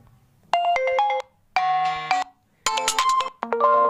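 Several short bursts of electronic ringtone melodies from an OPPO A9 phone, each separated by brief silence, played loud and close with no talking.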